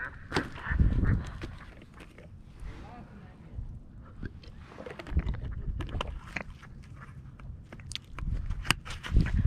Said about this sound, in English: Oh, that duck scared the shit out of me.